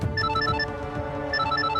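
A phone rings with an incoming call, playing a bright, repeating electronic ringtone melody in short looping phrases. It is close and clear throughout, and no one speaks over it.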